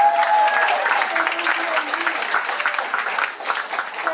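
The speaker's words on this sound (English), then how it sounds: "do we applaud people who step up?" Applause from a room of people at a Toastmasters leadership talk, steady and fairly close, with a few louder individual claps coming through and a voice briefly audible near the start.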